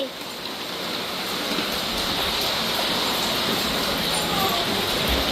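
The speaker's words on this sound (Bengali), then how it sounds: "এ দেখো ঝমঝম করে বৃষ্টি পড়ছে" Heavy rain pours down in a dense, steady hiss that holds constant throughout, broad and enveloping.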